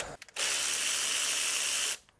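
A ratchet on a long extension loosens 12 mm bolts on a 2008-2011 Mitsubishi Lancer during a starter motor replacement, making one steady, loud burst of about a second and a half with no talk.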